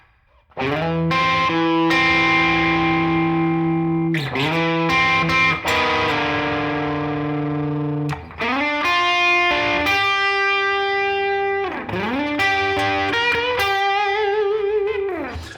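A distorted electric guitar plays a slow, sustained blues lick in pentatonic patterns, with long bent notes and vibrato, loud and alone.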